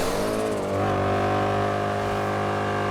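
Mercedes C63 AMG with a big V8 in GTA 5, engine revving up and holding a steady loud drone close by, rich harmonic tone that builds for a moment then sustains.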